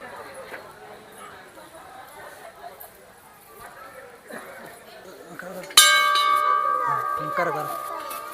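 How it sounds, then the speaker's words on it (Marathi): A temple bell at the Shrinath Mhaskoba Devasthan in Kodit is struck once, loud and near, ringing out with a long sustained decay after a stretch of people talking and chatter. "घंटा वाजवली ना"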